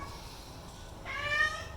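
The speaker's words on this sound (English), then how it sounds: "Pardon the cats." A cat gives a single short meow indoors, fairly faint against quiet background hum, following a few seconds of near silence.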